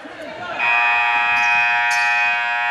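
A long, loud electronic buzzer sounds at the end of a period in a school staff versus school board fitness game, a steady tonal blare lasting about two seconds after a brief noisy lead-in.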